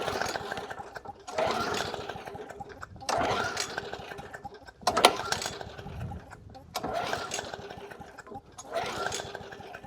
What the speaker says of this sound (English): All right, let's try this new carb.